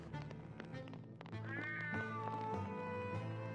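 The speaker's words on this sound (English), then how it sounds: "there's a cat in the game meowing" A cat meows in the tactical RPG Black Geyser: Couriers of Darkness, a drawn-out rising and falling meow over soft game ambience and background music.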